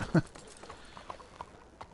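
Horse hooves clip-clop in Red Dead Redemption 2, a quick close thud at the start followed by lighter, uneven steps across the short stretch, with no talk.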